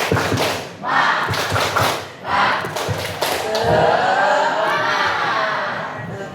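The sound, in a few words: class performing the rhythmic 'tepuk semangat' clapping chant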